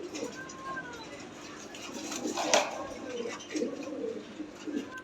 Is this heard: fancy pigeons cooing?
yes